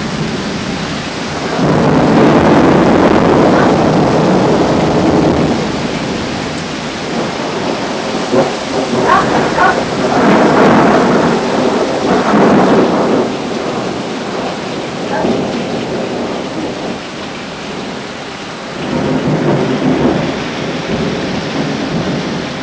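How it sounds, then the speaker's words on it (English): Thunderstorm over Coors Field with lightning strikes: steady heavy rain hisses throughout while loud rolling thunder swells in several long rumbling waves, close and powerful, with no talk over it. "Here comes again more rain."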